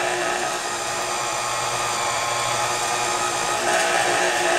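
An electric pasta machine set to its lowest speed rolls homemade pasta dough with a steady, loud motorized whir that holds constant throughout, with no talking.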